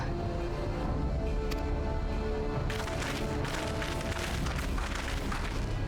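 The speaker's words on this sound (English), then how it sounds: "We saw the smoke and thought we heard explosions." Explosions in Final Fantasy XIV: Stormblood make a dense, loud, continuous rumble with booming bursts that thicken after the first few seconds, with no voices.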